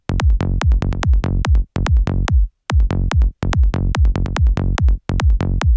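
A groovy synth bass line plays in mono without any stereo widening, punchy plucked notes in a bouncy repeating rhythm with short gaps, loud and alone.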